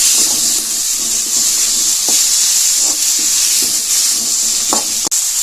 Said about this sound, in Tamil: தக்காளி நல்லா வதங்குற வரைக்கும் வதக்கிக்குவோம்